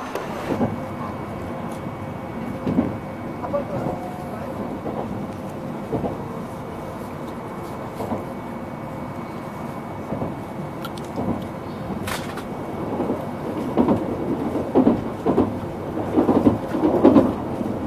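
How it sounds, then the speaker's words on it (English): An Osaka Metro train rumbles steadily nearby with faint rhythmic clacks and a swelling roar toward the end, amid a busy station atmosphere. "This is the Osaka Metro."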